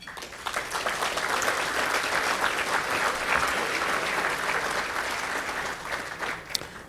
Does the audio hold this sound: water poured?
no